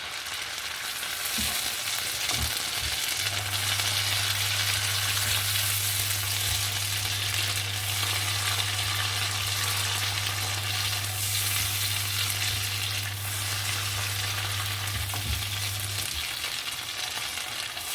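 Peppercorn sauce sizzling steadily in a pan after stock is poured in, being stirred, with a constant loud frying hiss throughout, a few scraping touches and a steady low hum running underneath most of the time.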